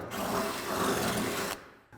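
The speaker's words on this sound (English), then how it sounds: "We're drilling that spot weld out to release the outer fender skin from the inner fender, and we're using a 5/16 drill bit." A drill bores out spot welds joining an outer fender skin to the inner fender on a Silverado truck, using a 5/16 bit; steady, loud grinding whine for about a second and a half, then stopping.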